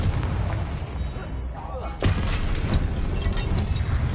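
A Confringo blasting spell in Hogwarts Legacy lands as one sharp, loud explosive boom midway, set against a continuous rumbling game background before and after.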